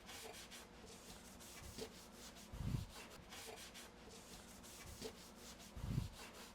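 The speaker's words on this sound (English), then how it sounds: "Use your Scotch-Brite pad" A Scotch-Brite pad scrubs the grooved surface of a 1952 Vendo 23 Coke spin-top machine in steady back-and-forth rubbing strokes, with two heavier thumping strokes, close and quiet.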